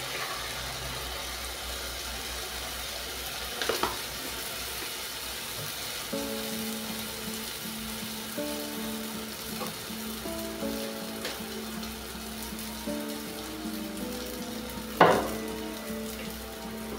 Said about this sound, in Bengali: দু পিস লাল করে ভেজে নিয়েছি।